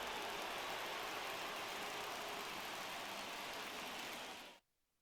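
Steady rain hisses down on a ballpark in the baseball game MLB The Show 23, a dense, even wash of sound that holds for several seconds and then cuts off abruptly to near silence.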